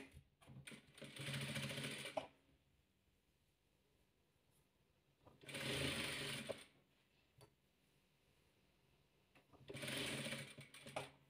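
A sewing machine stitches the last strip of a patchwork quilt in three quiet bursts of rapid whirring, each about two seconds long, separated by near-silent pauses.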